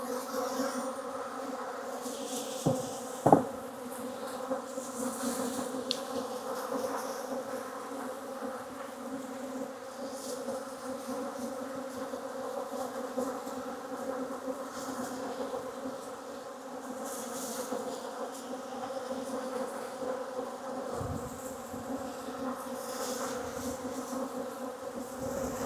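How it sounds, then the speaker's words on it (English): Honeybees buzz steadily around a hive checked after winter, a continuous close drone of many insects with a couple of brief knocks early on and no talking. "Let's see if we can get some bees here."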